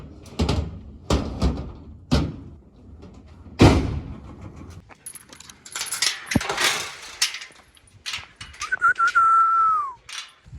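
Several loud, sharp bangs of a door that won't stay shut, in the first few seconds, followed by rattling and clattering, ending with a brief high whistle-like tone.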